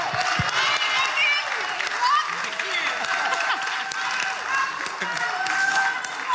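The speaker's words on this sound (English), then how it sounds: "to huge applause" A large audience breaks into loud, sustained applause with some cheering at a live political talk event, a dense wash of clapping that holds steady throughout, with voices mixed in.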